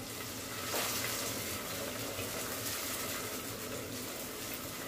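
Ground masala paste made with onion sautés in oil for a dried green peas curry. A steady, faint, close sizzle runs through with a slight swell near the start, and there is no talking.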